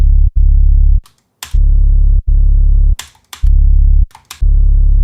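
A loud, heavily distorted 808 bass from a Drake-style trap beat, with long sustained booming notes chopped by short gaps and crisp snare or clap hits between them, playing alone without voices.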